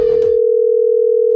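A telephone dial tone sounds as a call is placed, a single steady loud tone after a brief burst of other sound at the start.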